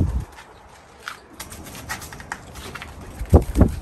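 Pigeons, a pair of Iraqi tumbler-type homing birds, giving a few soft low coos near the end over steady room noise and faint rustling, close to the recorder.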